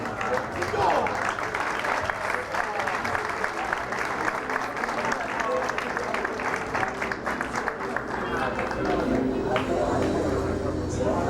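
Sustained audience applause in a hall at a drag pageant preliminary, clapping for a contestant in the evening wear round, steady and dense throughout with crowd murmur and some voices mixed in.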